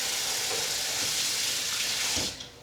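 Tap water runs steadily into a kitchen sink while cookie baking dishes are rinsed out, a close, continuous gushing splash that cuts off near the end, with no talking.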